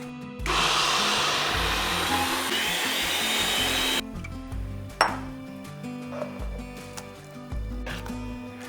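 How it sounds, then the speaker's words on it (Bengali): An electric grinder blends pea lentils with green chili into a thick paste, a loud steady whir running for several seconds and then stopping, followed by scattered clunks and scraping. "এরপরে এই মটর ডালটাকে বেটে নেব।"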